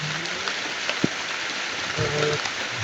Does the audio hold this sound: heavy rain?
yes